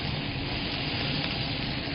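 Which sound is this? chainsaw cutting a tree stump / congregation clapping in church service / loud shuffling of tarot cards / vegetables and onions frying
vegetables and onions frying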